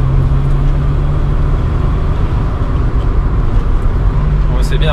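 A barn-find Maserati Biturbo driving on a road, its steady engine drone and road roar filling the cabin at constant loudness throughout, with no talking.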